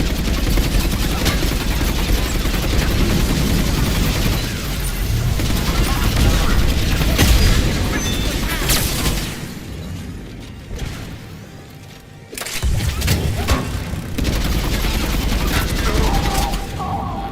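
Rapid bursts of Reverend assault rifle fire in the video game Mass Effect 3, loud and dense with explosions and combat noise, easing briefly midway before the shooting resumes.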